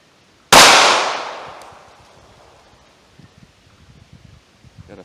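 One loud, sharp shot from a Ruger LCP pistol firing a PDX-1 .380 ACP round, with a long decaying echo, then quiet rustling and small handling noises.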